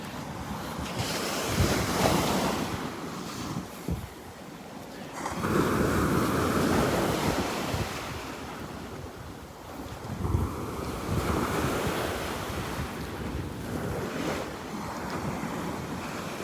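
Ocean surf rolls onto Vanderbilt Beach on a morning walk, waves surging and receding in loud washes while wind rumbles across the microphone, with no talking.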